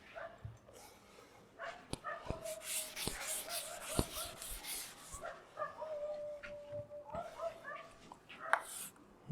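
Several dogs bark, yip and howl at a distance in irregular bursts, with someone talking over the noise.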